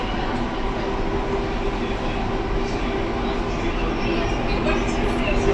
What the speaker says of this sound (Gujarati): જો હવે ટ્રેન ઉપડી છે.